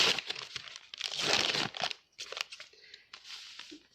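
Sterile, low-adherent absorbent wound dressing packaging being torn and opened by hand, with close crinkling, crackling and ripping bursts that pause briefly and then resume.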